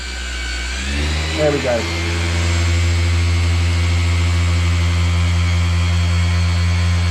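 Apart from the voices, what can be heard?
car polishing machine running on paint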